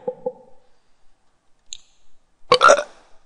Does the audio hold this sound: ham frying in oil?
no